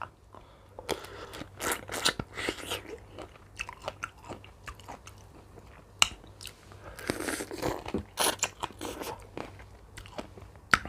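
Close, crisp bites into a fresh, juicy peach followed by wet chewing and crunching, repeated in uneven bursts with short pauses, loud and intimate with no talking.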